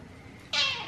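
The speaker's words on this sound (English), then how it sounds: "She's starting to meow at me." A cat lets out a single short, bright meow, close and clear, after a moment of quiet room tone.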